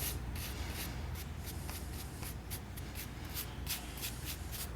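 Alcantara on a car steering wheel brushed one way and fluffed back, a soft close scratchy shuffling in quick repeated strokes.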